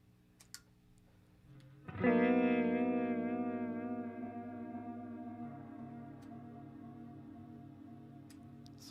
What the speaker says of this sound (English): But here's the warble sound.